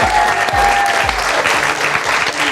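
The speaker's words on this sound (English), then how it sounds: "Give him a big round of applause." Studio audience at a live TV talk show breaks into loud, sustained applause, a steady wash of clapping with some cheering that fills the whole stretch without pause.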